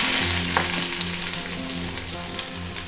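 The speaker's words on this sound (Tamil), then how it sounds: "வெங்காயம் வந்து கொஞ்சம் வதங்கியிருக்கு" Steady sizzling of onions frying in hot oil in a pan, close and continuous, with faint stirring clinks.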